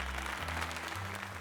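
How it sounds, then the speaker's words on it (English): Crowd applause from the Pokemon Legends Z-A video game, a brief steady wash of clapping with a low tonal music bed underneath. "let's give another heartfelt round of applause to Galaxy"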